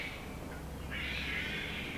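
Cats meow faintly in two drawn-out cries, the second louder and longer, set against a low steady background hum with no talk.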